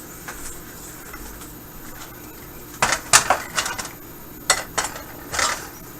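A mixing bowl clinks and knocks on a kitchen counter while peach cobbler batter is being prepared, with several sharp, close clatters after a quiet stretch.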